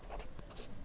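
A pen moving across paper as a maths solution is written out by hand, giving faint, soft scratching strokes in short bursts against quiet room tone.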